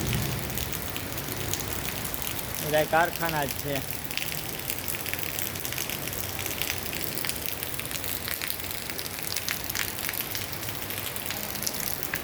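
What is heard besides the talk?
heavy rain falling in Jetpur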